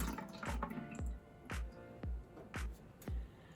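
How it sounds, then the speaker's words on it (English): Stormwater runoff from a model city is poured from a container back into a spray bottle, giving repeated close splashing and dripping bursts roughly every half second with quiet gaps between. "I'm going to take my stormwater runoff and I'm going to pour it back into my spray bottle"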